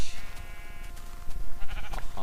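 Short bleats from a Minecraft sheep, heard close and fairly loud amid soft game noise, in two or three brief bursts.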